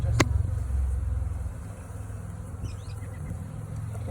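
A dense hum of honeybees from a package colony, loud and close at first with a low droning swell, then settling into a steady buzz with a few individual bees flitting past.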